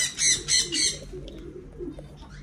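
Pigeons nearby give a few soft coos and a brief flutter of wings, faint and close, with no voices.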